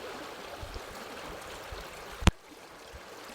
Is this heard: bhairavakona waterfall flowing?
yes